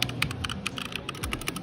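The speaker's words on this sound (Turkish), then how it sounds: "Şurada bir HyperX'in mekanik klavyesi var arkadaşlar." Rapid typing on a HyperX mechanical keyboard at a Russian electronics shop, a quick close run of crisp clacking keystrokes with no talk.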